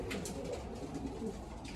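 Breeding pigeons in a loft give soft, low, continuous cooing, close and fairly quiet, with faint rustling around them.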